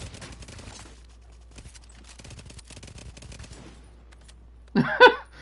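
Rapid automatic gunfire from The Division 2 rattles in dense, sustained bursts, fairly close, followed by a short louder burst of a different sound at the end.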